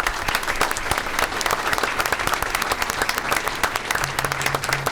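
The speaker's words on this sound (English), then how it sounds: "let's give those teachers a round of applause as well." Audience at a school board meeting applauds the teachers, a dense, even round of clapping from many hands that continues for about five seconds.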